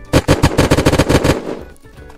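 Automatic gunfire in the survival game Unturned: a rapid burst of about nine loud, close shots in quick rhythm, then a short fading tail, with no talk over it.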